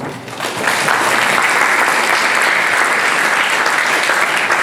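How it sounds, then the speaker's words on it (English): Parents at a football club general meeting break into sustained, loud applause that rises quickly and holds steady as a dense wash of clapping. "So give yourselves a round of applause."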